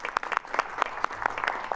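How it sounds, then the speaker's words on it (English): At a board of education meeting, a small group claps in brief, scattered applause. The claps sound crisp and close and come in an uneven patter for a couple of seconds. "that deserves a round of applause"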